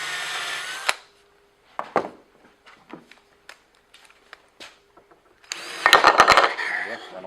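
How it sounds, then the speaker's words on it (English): A power drill pre-drills wood for cabinet assembly, heard as a close, loud burst of whirring near the end after scattered handling knocks and brief talk. "I'll just pre-drill to make it easy on myself."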